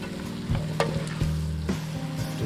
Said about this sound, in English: You add your garden peas and stir for a while.